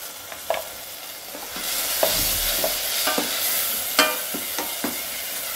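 A spoon stirs ground paste frying in a pan with tomato and turmeric for Kumbakonam kadappa, giving a steady close sizzle broken by irregular scraping knocks of the spoon.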